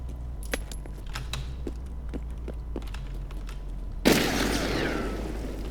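A grenade explodes in Escape from Tarkov with a sudden loud blast about four seconds in, its rumble fading, after clicks and faint clatter.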